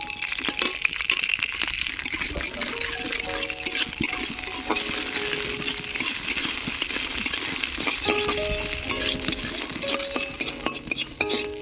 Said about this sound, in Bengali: প্রথমে আমি বড়িটা ভেজে নেব। অল্প একটু সরিষার তেল দিয়েছি।